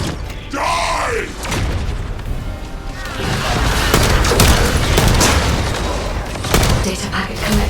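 A precision bomb detonates in a sci-fi video game, a deep booming blast that rolls into a sustained rumble of explosive noise, loud and close, with a shouted voice early on.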